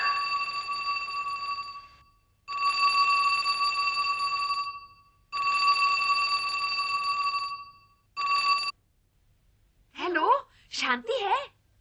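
A telephone rings in repeated long electronic bursts with short gaps between them, loud and close, before a voice speaks at the end.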